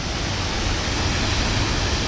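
Athirappilly Falls in South India roars as a steady, full-bodied rush of falling water, with wind-blown spray adding to the constant wash. No voices are heard.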